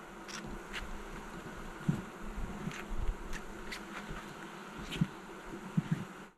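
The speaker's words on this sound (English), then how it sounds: "there's a bunch of bees in the bottom of the box" Honey bees buzz softly in a low, continuous drone from inside a hive box, with a few brief louder passes of single insects near the microphone.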